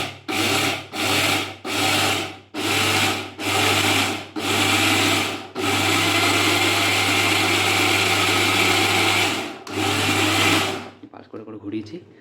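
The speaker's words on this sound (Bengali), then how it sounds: "এই যে বাটিটাকে মিক্সিটাতে লাগিয়ে নিয়েছি আর ঘোরাবো" Kitchen mixer grinder blending chutney ingredients for dosa in short loud pulses, six quick bursts, then one long sustained whir and a final burst before it stops, with some rattling at the end.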